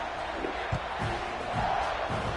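A stadium crowd in the NCAA 25 college football video game roars in a steady, dense wash of cheering with a few swelling shouts, loud and continuous throughout.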